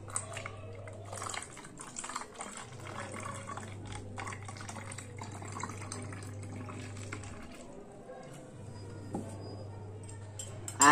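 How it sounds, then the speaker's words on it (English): Colored water is poured into a plastic bottle with holes punched at the same depth, a soft, continuous splashing trickle beneath a steady low hum, with occasional light clicks and a louder knock at the very end. "So now I will pour some water in this."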